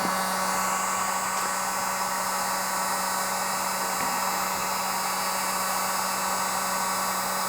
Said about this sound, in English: I'm going to take a heat gun and I'm going to work my air out and around and away from the rivets.